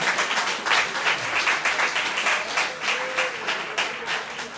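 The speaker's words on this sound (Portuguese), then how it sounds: "Quem crê, aplauda ao Senhor com o seu melhor." A church congregation applauding during a service, a sustained wash of many hands clapping in loose rhythmic pulses, close and full, with a faint voice briefly rising beneath the clapping.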